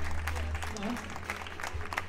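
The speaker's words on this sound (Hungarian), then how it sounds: "Biztassuk meg a srácokat egy kis tapssal!" An audience applauding the boys at a charity event on a stage, a steady patter of clapping, fairly faint, mixed with some voices.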